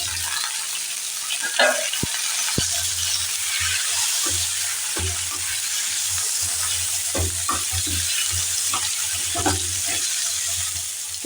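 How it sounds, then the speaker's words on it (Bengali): New potatoes with turmeric frying in a pan with little oil, a loud, continuous sizzle up close, broken by a few sharp clinks and scrapes of stirring. "হলুদ দিয়ে আলুগুলোকে ছেড়ে দিলাম"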